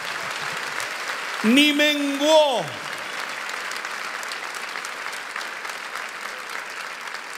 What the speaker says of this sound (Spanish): ¿Cuántos le dan un aplauso a Dios fuerte?